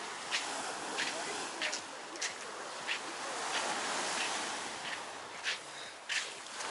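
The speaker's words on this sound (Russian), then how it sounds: "Волны, конечно, нормальные такие, хлещут." Sea waves wash and crash onto a pebble and shell beach at a Crimean campsite near Sevastopol, a steady close surge with periodic splashing peaks and some wind, with a few voices in the background.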